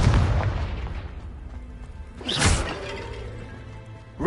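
A Confringo blasting-spell explosion in the Hogwarts Legacy video game: a muffled boom at the start, then a sharper burst with a crackling tail midway, moderately loud with no talk over it.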